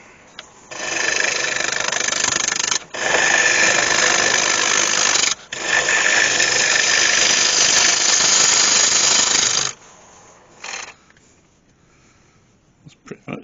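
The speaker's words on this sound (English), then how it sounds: "This is going to be the bottom of the bowl, so I need to turn it away and put a foot on there." Wood lathe spinning a glued-up bowl blank while a sharpened chisel turns away the bottom to form a foot, a loud steady whirring scrape in two long bursts with brief pauses, then quiet handling noises.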